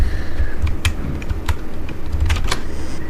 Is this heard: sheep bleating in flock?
no